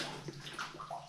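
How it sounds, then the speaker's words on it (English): Water splashes and sloshes underfoot in a flooded old mine tunnel, a faint, close, echoing slosh as a boot moves through shallow water. "Just a splash."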